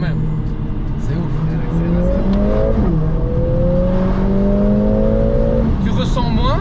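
A Mercedes CLA45 S AMG engine pulls hard from inside the cabin, rising through gears with a brief shift dip, loud and close, with voices talking over it.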